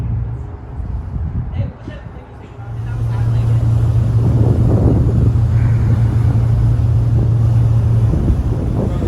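A ferry crossing San Francisco Bay toward the Bay Bridge, its engine holding a steady low drone under heavy wind buffeting the microphone, with voices talking over it.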